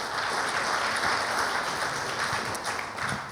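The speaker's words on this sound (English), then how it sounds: "another round of applause for them." Awards ceremony audience applauding, a steady dense wash of clapping that holds at even loudness throughout without any voices on top.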